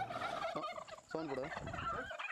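A turkey gobbles loudly in a rapid rattling burst, then again, close by on a turkey farm in Thiruvannamalai, with other fowl noises around it.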